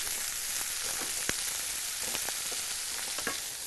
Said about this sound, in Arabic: وهحمر الفرخه بتاعتي كويس قوي